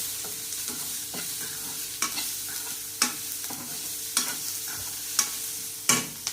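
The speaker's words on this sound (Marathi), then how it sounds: "लाल तिखट कोल्हापुरी लाल तिखट धने पाव जिरे सगळं छान असं भाजून घ्यायचं अगदीच कमी तेल वापरायचं" Red chilli powder, Kolhapuri chilli, coriander seeds and cumin roasting in very little oil, a steady soft sizzle broken by regular scraping stirs of a spoon in the pan, close and alone without voices.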